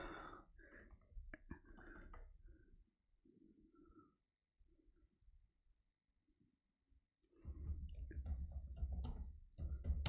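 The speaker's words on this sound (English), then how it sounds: "Going to general, clicking on title," Mouse clicks and keyboard typing at a computer while building a Power BI dashboard, a few faint scattered clicks in the first seconds and then a denser, louder run of clicks and keystrokes near the end, with no talk.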